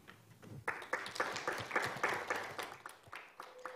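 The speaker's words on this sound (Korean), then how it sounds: "큰 박수로 맞이해 주시기 바랍니다" Quiet applause from a small group at a forum session, a few seconds of scattered clapping that starts, swells and then tapers off.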